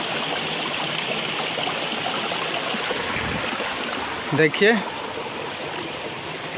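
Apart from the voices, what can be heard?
waterfall and stream water flowing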